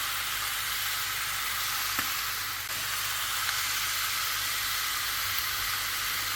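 Garlic fries in a hot pan with salt, giving a steady, close, bright sizzle and hiss that holds evenly throughout, with a faint tap or two partway through.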